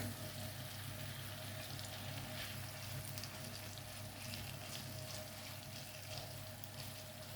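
Chicken sizzles steadily in a hot pan for a tongue-shaped pasta dish, with constant crackling and spitting oil, close and even throughout, no voices.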